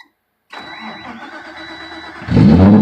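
A car engine cranks and catches with a sudden loud burst, then settles into a rough, close idle. The engine fires on its own without the gas pedal pressed, and no voices are heard.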